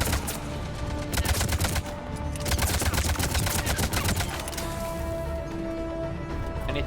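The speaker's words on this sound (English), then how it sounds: "this is a powerful ass assault rifle. It just mows them down." Assault rifle fire in Mass Effect 3, rapid automatic bursts in two long strings of closely spaced shots, loud and near, with a brief pause between them and a quieter tail afterward.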